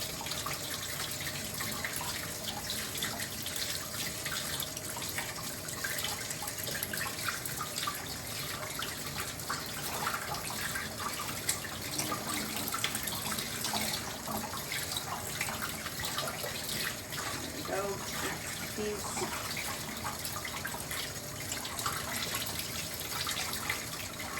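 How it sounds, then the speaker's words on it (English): Food being rinsed under a running kitchen tap while making Vietnamese spicy beef noodle soup, a steady even rush of water continuing throughout with small splashy variations. "Just rinsing it off, cleaning it off."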